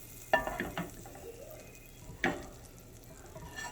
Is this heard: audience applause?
no